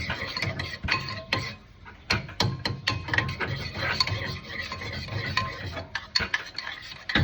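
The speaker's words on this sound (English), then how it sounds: "And now you're gonna want to mix it up." A spoon whisks eggs for scrambling in a bowl, a rapid, continuous clatter and scrape of metal against the bowl, close and busy, with no talking.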